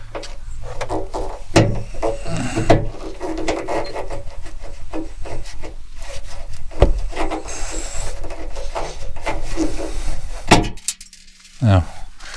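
Plastic trim removal tool prying seat trim off a VW Transporter seat base, giving a run of close scraping, rubbing and clicking sounds with a few sharp snaps, loud and continuous, ending in a brief quiet gap before one last knock.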